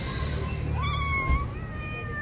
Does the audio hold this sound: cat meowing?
yes